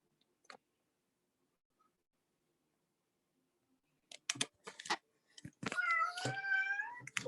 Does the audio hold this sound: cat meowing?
yes